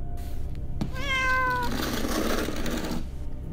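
A cat lets out a drawn-out, wavering cry that rises and fades, over a low rumbling background and soft scratchy noise.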